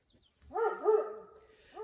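A dog lets out a few short, tonal barks and yips at moderate distance, a quick cluster of two or three followed by another brief bark, with no talking.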